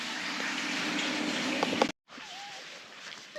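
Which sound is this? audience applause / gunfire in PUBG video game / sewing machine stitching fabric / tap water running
tap water running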